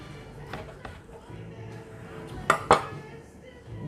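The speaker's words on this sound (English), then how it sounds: "So what I'm going to do right now, cut away this bone." A knife works against the bone of a wagyu tomahawk ribeye steak, giving soft scraping cuts and two sharp metallic clinks against a board or dish, close and fairly quiet.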